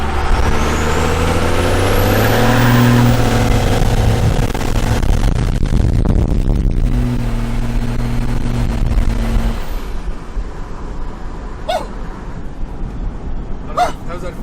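A truck with a 12-valve engine doing a burnout at a roadside spot, its diesel roaring loud and steady with rising whine, then dropping off into lower rumble and a couple of sharp hiss bursts near the end.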